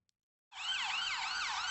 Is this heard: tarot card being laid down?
no